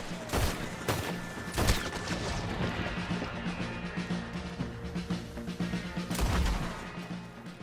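Gunfire in a Red Dead Redemption 2 shootout, with men holding ground and a cannon in play: repeated loud bursts of shots and booming impacts, irregular and overlapping, against a constant busy background of battle noise.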